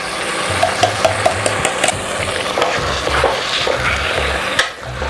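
Prego mushroom sauce is poured over half-cooked meat in a pan, giving a close, continuous sizzle with rhythmic scraping and knocking from stirring and a short, sharper clatter just before the end.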